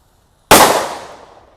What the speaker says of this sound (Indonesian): ini mercon yang paling banter meledosnya ya